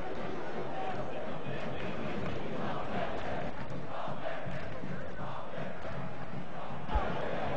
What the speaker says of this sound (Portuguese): foi aplaudido pelo torcedor.